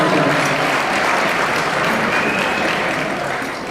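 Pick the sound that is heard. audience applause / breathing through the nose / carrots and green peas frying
audience applause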